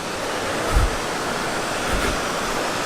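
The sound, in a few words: waterfall at Algar Falls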